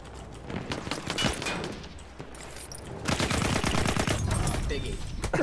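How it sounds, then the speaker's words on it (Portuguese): Battlefield 1 multiplayer gunfire, with bursts of rifle and machine-gun shots that crackle intermittently and then intensify into a dense, continuous barrage, mixed with battle noise. "Tiro tudo quanto é lado aqui."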